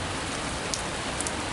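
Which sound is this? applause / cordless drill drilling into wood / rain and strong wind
rain and strong wind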